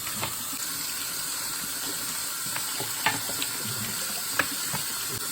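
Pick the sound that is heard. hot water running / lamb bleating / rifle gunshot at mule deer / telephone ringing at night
hot water running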